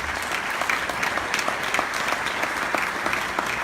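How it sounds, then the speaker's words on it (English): A banquet audience at an induction ceremony gives sustained, dense applause, with many hands clapping evenly at full volume throughout. "Give them a round of applause."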